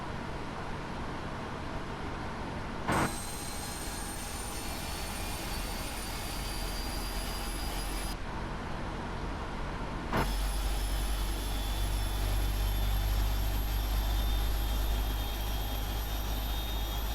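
Right jet engine of a PMDG 777-300ER in Flight Simulator X spools up with a loud whining roar and rising high tones, broad rushing noise throughout and a deeper rumble building after a sharp click.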